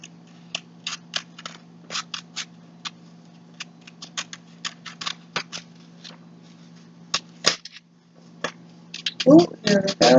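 Scissors cut out a paper foot outline in a quiet room, a steady run of short crisp snips close up, ending with louder rustling and a voice.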